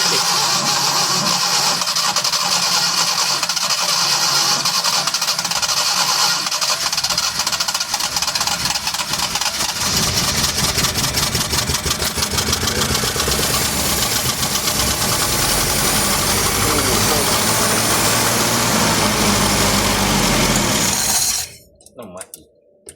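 A long-abandoned old van engine runs loudly and roughly for about twenty seconds, knocking as it idles, then abruptly cuts out.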